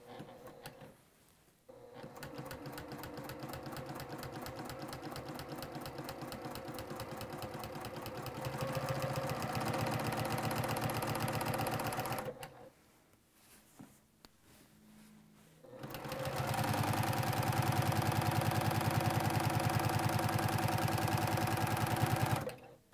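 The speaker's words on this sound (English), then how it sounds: "now using again the seam line as our guide, I'm gonna sew all the way down" Sewing machine stitching a straight quilting seam, a close, rapid mechanical chatter in two long runs separated by a short pause, with a quieter stretch between them.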